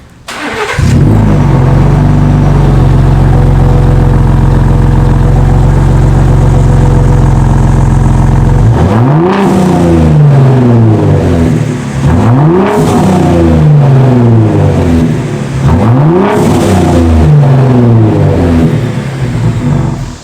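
A Gen 3 Ford Raptor pickup with an aFe Power Vulcan aftermarket exhaust idles with a deep steady rumble, then revs repeatedly in rising and falling surges, loud and close, with a throaty exhaust tone.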